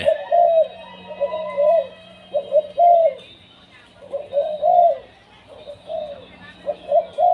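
A decoy zebra dove calls in repeated soft cooing phrases, close and clear, in a steady rhythm of short bursts with brief pauses, over a faint background hum.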